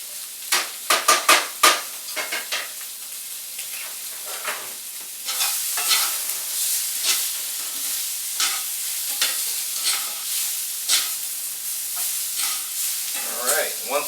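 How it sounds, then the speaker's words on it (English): Butter being stirred into a reduced berry sauce in a hot pan, with steady sizzling and repeated scraping strokes of the spoon, loud and close, with a cluster of sharp clicks at the start. "we're going to add a tablespoon of butter. And stir that in there and let that melt."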